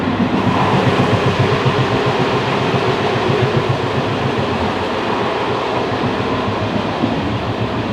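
Steady rumble and rattle from inside a moving train carriage on the Fes to Casablanca line in Morocco, with a continuous loud roll and faint rhythmic clatter of the wheels throughout.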